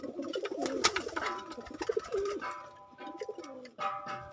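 Several pigeons coo in overlapping, throaty calls close by at a home loft with many pigeon breeds, the low rolling coos repeating steadily with a few brief chirps among them.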